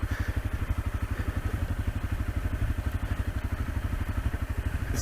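A Honda CRF250L dirt bike putters slowly along an off-road trail at an off-highway vehicle park, its single-cylinder engine thumping in a steady, even low rhythm at close range with some rattling clatter.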